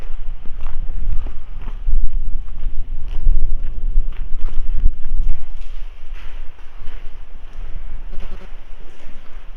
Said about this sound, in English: Can't do nothing about the wind.